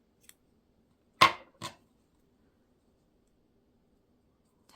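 Yarn snipped with scissors after finishing a Turkish cast-on knitting pouch: two quick, close, crisp cuts in a row, then near silence.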